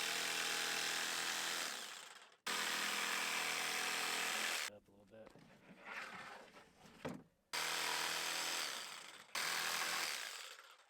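A power tool cuts a wood piece to fit a shelf at a mountainside camp in Nevada, running loud and steady in long bursts with a few short pauses and uneven stretches between them.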